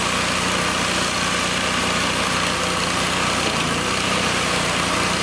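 The Kohler gas engine of a 2005 Allmand Bros TLB325 compact tractor idles steadily and loudly up close, a constant buzzing drone with a rattling hum and no other sounds.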